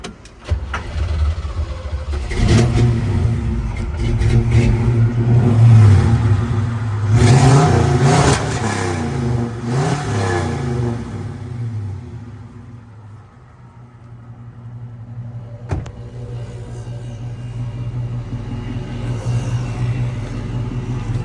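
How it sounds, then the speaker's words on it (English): A 1965 Chevelle Super Sport V8 fires up nearby and revs loudly several times, then settles into a steady rumbling idle, with a sharp blip near the end. "We are going to do a little fire up so you can hear this Super Sport roar."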